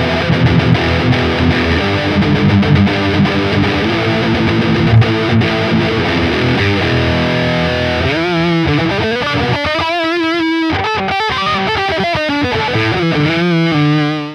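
An Ibanez AZ series electric guitar plays through heavy distortion, thick chords and riffs ringing loud and continuous, ending in sustained bent single notes.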